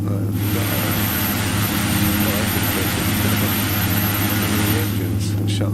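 Twin turboprop engines of a Beechcraft B1900D idling in the X-Plane 11 flight simulator, a loud steady drone with a strong low hum and constant hiss throughout.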